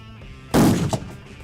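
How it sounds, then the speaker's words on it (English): A single loud rifle shot cracks out at an outdoor range while a riflescope is being zeroed, a sharp broadband blast with a brief echo trailing after it and no talk. "I'm going to fire the 4th shot"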